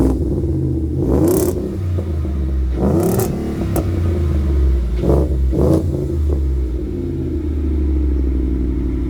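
A 2018 Ford F-150 5.0 V8 pickup with a cat-back exhaust and tune idles loudly, deep and throaty, and revs several times, each rev swelling and dropping back to a heavy rumble.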